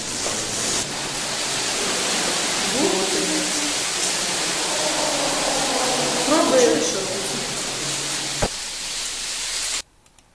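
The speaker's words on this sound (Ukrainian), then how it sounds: "Тече вже з п'ятого поверха, потекло вже на четвертий поверх." Water pouring and flowing down inside an apartment building, leaking through the roof from the fifth floor onto the fourth, a steady rushing wash with brief voices talking over it before it cuts off.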